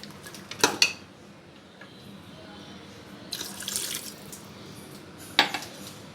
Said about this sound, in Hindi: अब मैं इसके अंदर थोड़ा सा पानी डाल के इसको 10 मिनट के लिए कवर करके रख दूँगी